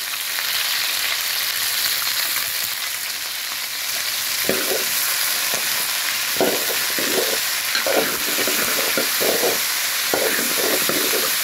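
Cauliflower and potato frying in a pan with salt for a Bengali fish and vegetable curry, a constant close hiss of oil broken by repeated scraping strokes of a spoon stirring the vegetables, with no voices.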